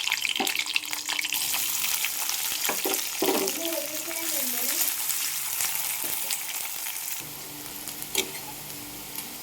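Potatoes for aloo fry sizzle steadily in a pan, with a continuous hiss and occasional stirring scrapes and clinks, plus brief splashy water-like bursts; fairly quiet and close.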